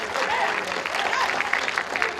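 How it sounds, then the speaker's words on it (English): Dense, continuous applause from an audience cheering a middle school group, with crowd noise and faint voices mixed into the clapping throughout. "Give yourselves a round of applause"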